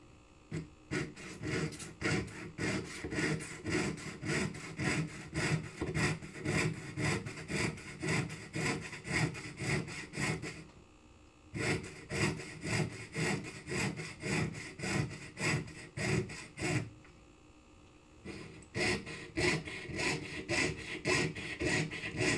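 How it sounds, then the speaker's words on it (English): A jeweler's saw cuts through metal sheet for paisley earrings, making a steady rhythmic rasp of fast back-and-forth strokes, close and continuous, with two short pauses partway through. "I can't say I did a great job sawing here today"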